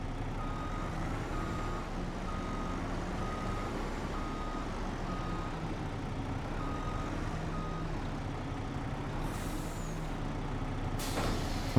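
An International LT truck in Farming Simulator 25 reverses with a steady rhythmic backup beeper over a low engine drone, closing with a sharp hiss of air brakes.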